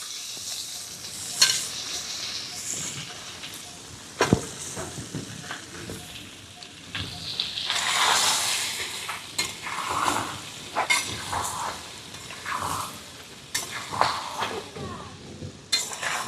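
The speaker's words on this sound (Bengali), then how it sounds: "মোটামুটি 5-7 মিনিট মতন খুব ভালো করে আমগুলোকে ভেজে নিতে হবে" Raw mango pieces fry in hot oil with tempering spices over a medium flame, a steady close sizzle broken by frequent stirring scrapes and occasional clinks of a utensil against the pan, with no voices.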